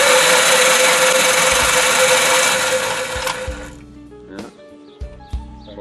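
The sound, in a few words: 1960 Gravely LI engine turning over without compression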